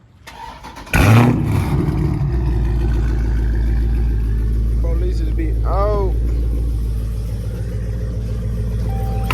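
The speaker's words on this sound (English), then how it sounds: "I'm gonna start the car right quick." A Dodge Challenger Scat Pack cranks and fires up with a sharp, loud burst, then settles into a deep, steady idle rumble on a rainy day, while someone talks briefly over it.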